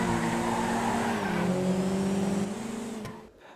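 Fudo sports car engine in GTA 5 revving steadily at high pitch during a street race, holding a loud drone, dropping briefly in pitch mid-run, then cutting off abruptly near the end.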